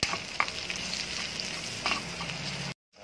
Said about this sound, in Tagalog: Pwede ko na ilaglag yung ating bawang. Dito na rin tayo magigisa.